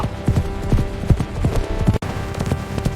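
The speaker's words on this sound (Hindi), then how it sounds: "घोड़ा भागा।" Horse galloping away carrying riders, a rapid, loud, close clip-clop of hooves in steady rhythm over a busy background, briefly cut off at one point before resuming.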